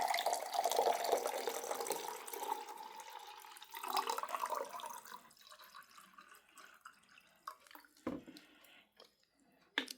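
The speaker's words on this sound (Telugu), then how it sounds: "అది ఇప్పుడు ఈ చిల్డ్ వాటర్ అయితే పోస్తా." Chilled water pours into a glass to mix a sachet of electrolyte powder, a close, bubbling stream for about four seconds, then tapering into a few scattered drips and light clinks.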